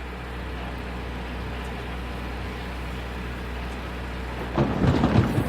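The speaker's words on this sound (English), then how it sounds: "Oh look, it's raining for me." Steady rain hisses throughout, then a deep rumble of thunder swells near the end.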